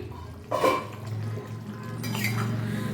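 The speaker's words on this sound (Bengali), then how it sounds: "ঢাকনাটা খুলে দেখিয়ে নিই" A metal lid clanks as it is lifted off a pot of simmering hilsa fish curry with eggplant and potato, followed by a steady, close bubbling and hiss of the gently boiling liquid.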